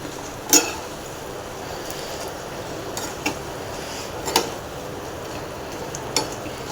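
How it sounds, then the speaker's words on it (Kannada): Buttermilk chillies fry in hot oil, a soft steady sizzle beneath occasional sharp clinks and stirs of a utensil against the pan, with no talk. "ಎಣ್ಣೆ ಕಾದಿದೆ. ಈಗ ಮಜ್ಜಿಗೆ ಮೆಣಸಿನ್ಕಾಯಿನ ಹಾಕ್ಕೊತಾ ಇದ್ದೀನಿ."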